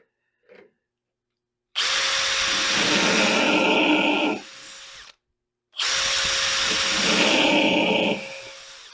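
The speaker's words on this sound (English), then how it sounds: "Purpose for drilling is to prevent splitting." An electric drill whirs loudly boring pilot holes through a wooden boat rib in two long bursts, each a few seconds, with a brief pause between; a short tap sounds just before the first.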